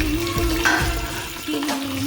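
Eggs fry in one to two spoons of oil with turmeric, coriander powder and salt for egg biryani, giving a continuous close sizzle with faint stirring scrapes and no talk.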